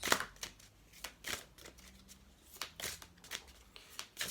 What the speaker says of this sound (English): you can see as I'm shuffling them how they kind of are in my hand